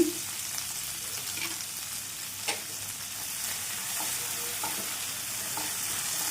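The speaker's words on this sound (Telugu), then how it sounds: "ఇవన్నీ కూడా మంచిగా వేయించుకోవాలి. ఈ కాడలు పచ్చివాసన పోయేంత వరకు వేయించుకోవాలండి." Coriander stems, four garlic cloves and three medium green chillies frying in a pan for a coriander-stem and tomato chutney, giving a constant hissing sizzle with faint occasional stirring, alone without voices.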